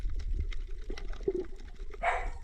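A dog barks a few short, soft times near a fishing spot by the water, with faint splashing and outdoor ambience around it.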